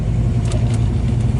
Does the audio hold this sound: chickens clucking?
no